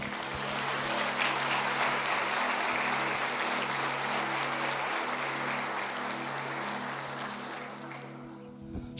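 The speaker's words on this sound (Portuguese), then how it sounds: "Aplauda o nome dele." A congregation applauding during a church service, with sustained dense clapping that fades toward the end, heard over a steady low hum.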